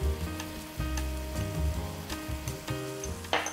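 A tomato, cumin and coriander mixture sizzles steadily in a hot pan while a wooden spoon stirs it in a few sweeping strokes, close and moderately loud with no talking.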